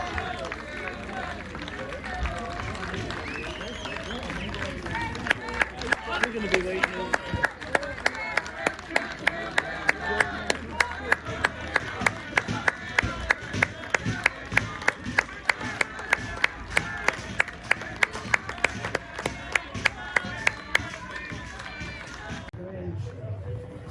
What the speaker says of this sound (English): the Redcar players going over to get the applause of their fans